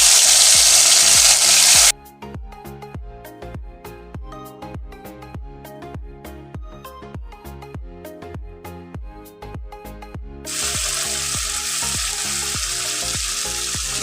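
Marinated shol fish hitting hot oil with whole cumin and garam masala, loud hissing frying at the start and end, with a rhythmic clattering of stirring or tapping in between.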